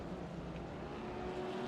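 Gordini and BMW 1950s Formula 2 race cars on a circuit, their engines droning steadily at middling distance in a continuous buzzing hum with no voices.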